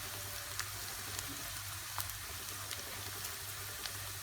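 A green chili fries faintly in a pan of oil while making dum aloo, a soft steady sizzle with scattered light pops and crackles.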